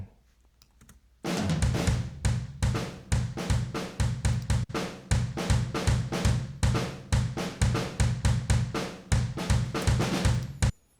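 Room mic channel of Logic's stock drum kit, a steady pop punk beat of hits on every beat with a roomy, saturated tone, played alone and loud after a brief quiet start.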